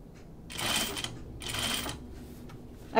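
A home sewing machine stitching a button-up shirt: two steady whirring runs of rapid stitching, each about half a second, close by with a brief pause between and a small click at the end.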